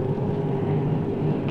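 A 25-foot offshore superboat catamaran racing on open water in Bowen, Queensland, its engine droning loud and unbroken with heavy wind rush over the microphone.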